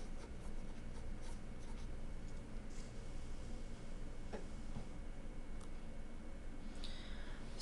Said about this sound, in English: So I'm going to write these out.